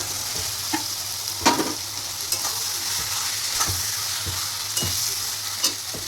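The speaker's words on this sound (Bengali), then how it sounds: "মশলাটাই আমার তেল ছেড়ে গেছে, এবার আমি আলু পটল একসঙ্গে তুলে দিচ্ছি।" Potatoes and pointed gourd fry in hot spiced oil, giving a steady close sizzle broken by sharp clicks and scrapes of a spoon stirring the pan.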